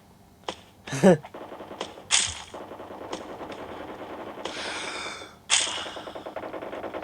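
Bursts of gunfire crack out during a mobile shooter game played on a realme 8s 5G phone, sharp shots and rapid clusters over a steady game backdrop, while a player talks excitedly at times.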